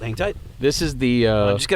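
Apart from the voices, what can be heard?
No distinct noise like a dog, phone or traffic.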